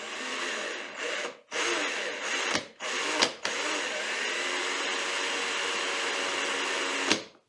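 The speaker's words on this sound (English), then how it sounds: "the bit spinning in the drill helps me do this much better than pushing the bit by hand against the end of the rod" A hand-held drill spins a wood drill bit against the end of a wooden dowel rod to mark its center, giving a close, continuous grinding whir with a few short breaks where the bit pauses.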